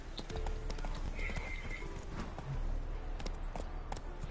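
Roach, a horse in the video game The Witcher 3, trots with quick, rhythmic hoofbeat clip-clops, soft and fairly quiet, with a faint whinny-like tone mixed in.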